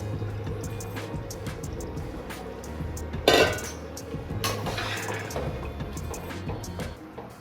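Washed jeera samba rice stirred into a pot for chicken biryani, giving soft scraping and clinking of a spoon against metal with one louder knock midway, over a steady low kitchen hum.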